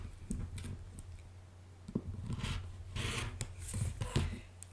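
A cutting tool, likely a rotary cutter or scissors, trims quilt block fabric along a seam with faint, close scraping and rubbing strokes and a few soft ticks, quiet and without talk.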